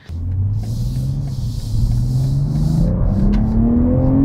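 A 2023 BMW M340i sedan engine pulls hard under acceleration from inside the cabin, a loud steady drone whose pitch climbs smoothly through the gear over about four seconds, with no one speaking.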